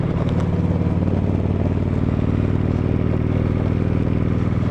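Kawasaki Vulcan Vaquero 1700 cruiser in top gear, a constant low rumbling exhaust drone with wind and mechanical clatter heard while riding, steady and loud throughout.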